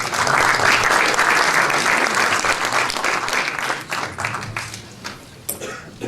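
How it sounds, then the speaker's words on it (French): Conference audience applauding loudly and steadily throughout, a dense wash of clapping that thins slightly toward the end, with no speech over it. "je crois qu'on peut l'applaudir d'être avec nous aujourd'hui"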